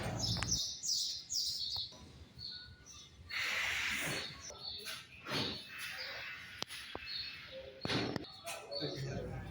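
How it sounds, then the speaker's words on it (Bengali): Birds chirp and tweet outdoors in Saudi Arabia, with quick bursts of calls at the start and scattered chirps afterward, heard beneath a person talking nearby. "এখানে সবসময় পাখির আওয়াজ"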